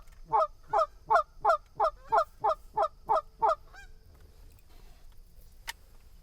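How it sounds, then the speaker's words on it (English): A run of about ten loud goose honks in quick, even succession during bird banding, then a quieter outdoor stretch with a single sharp sound near the end. "I hear geese."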